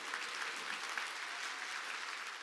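A church congregation at a summer mountain revival service claps together during the sermon: steady, dense applause that holds evenly for the whole stretch, with no voices over it.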